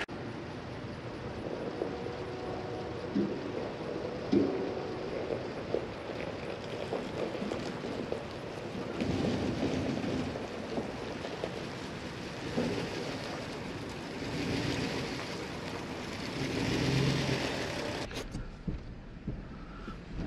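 A lifted DIY vehicle on a test drive gives a steady rumbling road and engine drone with wind noise, swelling and easing over about twenty seconds before cutting off.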